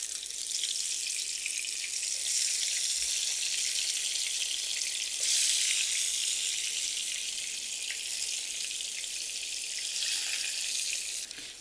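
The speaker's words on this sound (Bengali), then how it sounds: "বেগুন আর টমেটোটা আমি ভাজতে চলে আসলাম। ফ্রাই প্যানে কিছুটা তেল দিয়েছি।" Brinjal and tomato sizzle in oil in a frying pan, a steady bright hissing crackle that holds evenly for the whole stretch, close and alone without voices.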